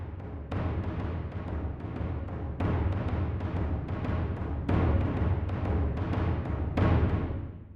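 Two orchestral bass drums in the Terminator theme, panned hard left and right, trade deep booming hits in a bouncing, driving rhythm, each strike ringing out and overlapping the next at a steady pace.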